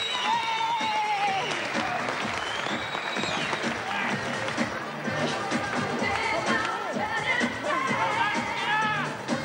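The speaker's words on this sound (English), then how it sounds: "give Rita Williamson a very gracious lady a big round of applause" Crowd applause at the Melbourne Sports Aquatic Centre during a bodybuilding-style contest, continuous clapping mixed with cheers and whoops, somewhat distant, with an announcer's voice and crowd noise over it.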